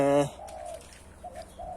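A spotted dove coos nearby in a few short, soft, low hooting notes, after a brief burst of another sound at the start.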